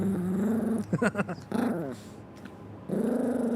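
Puppies growl in a video game in close, rough bursts broken by short pauses, with a low steady drone behind them.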